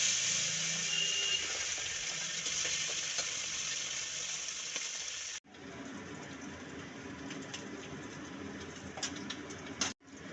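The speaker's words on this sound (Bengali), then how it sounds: "তেল গরম হয়ে গেছে, এবার মাছগুলো ভেজে নেব।" Chapila fish frying in hot oil in a pan, a dense steady sizzle throughout with a brief break midway before the crackling resumes, close and fairly loud with no talking.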